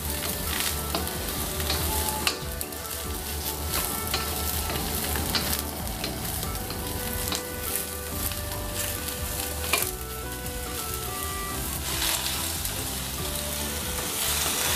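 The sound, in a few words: stir-frying eggplant in a pan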